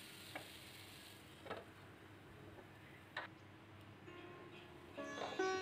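Pointed gourd pieces seasoned with turmeric and salt fry in a partly covered pan, making a faint, low sizzle broken by a few soft clinks and taps of stirring.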